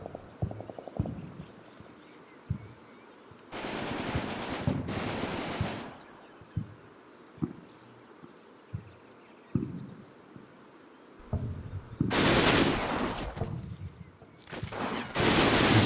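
Bursts of small-arms gunfire in a Combat Mission wartime battle game, a few short crackling volleys and scattered single shots separated by quieter stretches of low ambient rumble.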